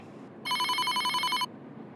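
A telephone rings once in a Bengali office-like setting, a single bright electronic trill lasting about a second, clear and close against quiet background.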